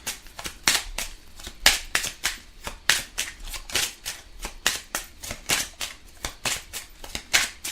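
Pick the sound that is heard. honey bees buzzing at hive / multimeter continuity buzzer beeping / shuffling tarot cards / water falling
shuffling tarot cards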